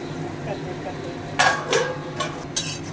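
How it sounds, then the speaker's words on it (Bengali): A lid goes onto a pot of soybean curry with a few sharp metallic clanks and rattles of cookware, close and distinct over a low background hum. "এবার একটু ঢাকা দিয়ে দিচ্ছি"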